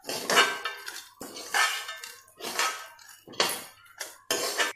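Milk is poured into a pan of fried rice in several short, clattering bursts of metal on metal, each followed by a pause, close and fairly loud with no talking.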